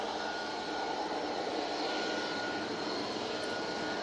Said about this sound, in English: And we have the easyJet coming on right in front of us now.